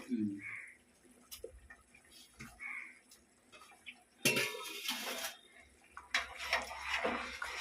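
Curry leaves drop into a pan of dried fish frying in oil, setting off a sudden loud sizzling hiss that fades and flares again, amid clinks of utensils and a voice talking.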